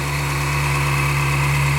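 A Ferrari 360 Spider's 3.6-liter dual overhead cam 40-valve V8 idles steadily with the engine cover open, a close, even drone with a strong low hum and no one talking.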